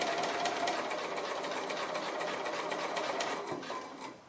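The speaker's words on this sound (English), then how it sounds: "I'm stitching about 1/8 of an inch away from the fold on the larger piece of fabric." Sewing machine running a continuous line of stitching close to the fold of fabric, a steady near mechanical whir that holds for several seconds before winding down.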